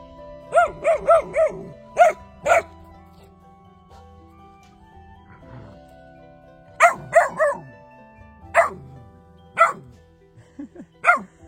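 Two dogs out on a mountain walking trail bark in short bursts, a few quick yaps and then scattered single barks, moderately close, with quiet gaps and faint outdoor background.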